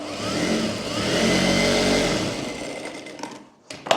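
Sewing machine stitching a blouse neckline, a steady close mechanical whir that fades out after a couple of seconds, followed by a few light handling clicks and knocks.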